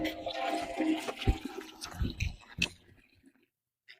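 Water splashes and gushes from a village tap in uneven bursts, then tapers to quiet trickles and near silence at the end.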